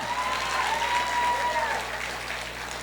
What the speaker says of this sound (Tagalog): Palakpak din ng konti.